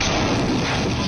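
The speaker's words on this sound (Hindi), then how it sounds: "तोप का गोला छोड़ने के बावजूद जोरावर 1 इंच भी नहीं हिला।" An Indian Army Zorawar light tank fires its cannon in a single loud, sustained blast that fills the whole moment, with no voices.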